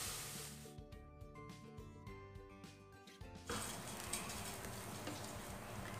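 Ingredients for a simple farofa sizzle in a pan, a soft, steady hiss with faint ticking and stirring that grows noticeably louder and fuller partway through as more goes in.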